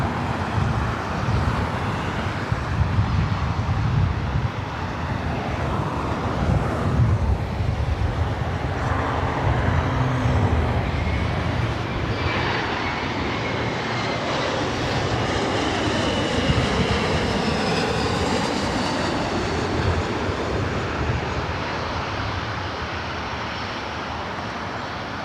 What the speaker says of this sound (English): This flight is heading to Las Vegas, the 737-700